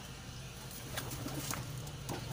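A pigeon gives a few soft, low coos in a quiet outdoor setting, with faint background hum and no talking.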